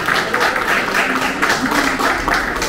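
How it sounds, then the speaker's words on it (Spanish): A crowd claps steadily and warmly for a few seconds, the applause dense and continuous with a faint voice beneath it. "fuerte los aplausos a la señora Jessica"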